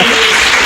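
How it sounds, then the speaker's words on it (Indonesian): Applause from an audience at a high school podcast event fills the moment, a dense, steady patter of many hands clapping close by for a brief burst with no voices over it. "Tepuk tangan."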